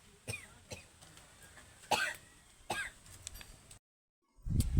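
A person coughs repeatedly in a home kitchen while cooking eggplant, several separate close coughs and throat clearings spread over a few seconds, with no talking.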